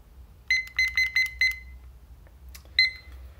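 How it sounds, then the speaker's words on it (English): A kitchen-style electronic timer set for five minutes during a pill bug experiment gives five quick bright beeps in a row, then a pause and one more beep, fairly close and clear over quiet room tone. "And we're going to set a timer for 5 minutes."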